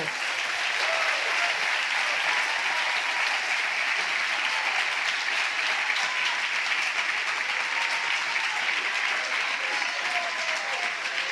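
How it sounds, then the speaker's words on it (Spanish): A church congregation applauds during a Spanish-language sermon, producing a steady, continuous wash of clapping that holds evenly for about eleven seconds, with a few faint voices mixed in. "Dale un aplauso al Señor por eso."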